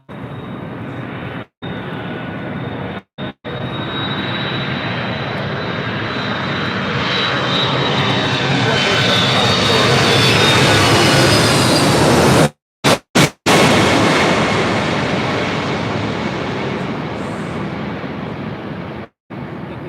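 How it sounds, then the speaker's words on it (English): A Boeing 767-300 airliner arriving from Honolulu at LAX roars loudly and close, swelling in intensity with a high whine over the steady rumble. "This is the Airlines 368 coming in from Honolulu on a 767-300"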